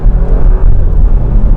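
Porsche Macan 2021 engine heard from inside the cabin, a loud, deep rumble pulsing unevenly while driving in second gear over speed bumps, close and alone without talk.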